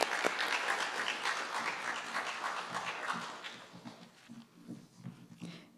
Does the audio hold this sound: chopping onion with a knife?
no